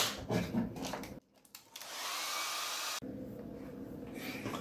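A hair dryer blows steadily to dry a watercolor painting, a loud close whooshing hiss that cuts off briefly and then runs on with slightly changed airflow.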